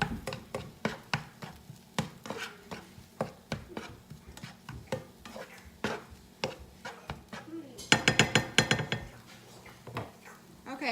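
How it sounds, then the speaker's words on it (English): Utensil scraping and clinking against a pan while taco filling is stirred, a steady run of close, sharp strikes and scrapes with a denser flurry of clatter near the end. "I'm going to stir this around about 1 minute"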